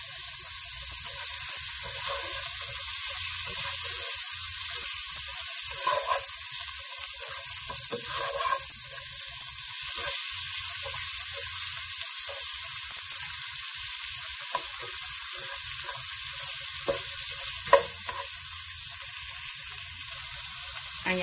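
Shrimp sizzle in a hot pan, frying for broccoli with garlic sauce in a Chinese-style dish: a steady, close hiss with faint scattered crackles and one sharp tap near the end, no voices.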